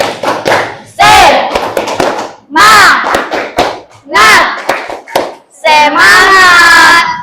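A class of junior high students at SMPN Binuang shouts a loud unison spirit chant with rhythmic claps, in bursts separated by short pauses, close and energetic.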